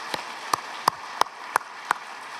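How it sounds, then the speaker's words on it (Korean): A church congregation claps in unison after a choir's hymn, six sharp, evenly spaced claps at a quick, steady beat over a quiet room. "우리 다시 한번 하나님께 영광의 박수 올려드리겠습니다."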